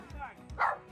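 Dogs at a Colorado tent campground give a couple of short barks and yips at moderate distance, mixed with people's voices talking nearby.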